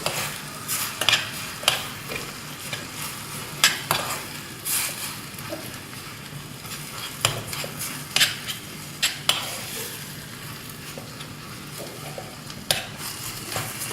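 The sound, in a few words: stirring fish masala in a pan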